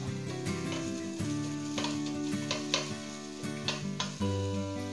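Garlic sautés in a spoonful or two of oil as the base for pork sinigang, a soft continuous sizzle close by with scattered clicks and scrapes of a utensil stirring against the pan.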